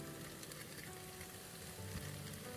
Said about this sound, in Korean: 수분이 없어질 정도로 볶아주다가 멸치 다시물을 어, 반컵 정도 넣어서 더 볶아줍니다